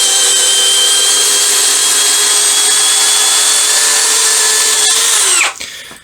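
An Einhell TP-CD 18/120 cordless impact drill whines steadily at high speed for about five seconds, close and loud, then winds down abruptly and stops.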